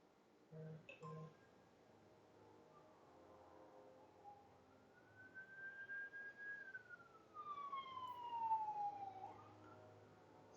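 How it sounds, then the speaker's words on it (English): Emergency sirens wail faintly in the distance, a rising and falling tone that swells over several seconds and then sweeps down, sitting low beneath quiet background sound. "Excuse the sirens in the background."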